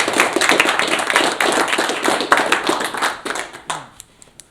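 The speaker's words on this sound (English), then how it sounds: "Another round of applause." Another round of audience applause at a Tim Grover talk, close, dense clapping that holds steady and then tapers into a few scattered final claps.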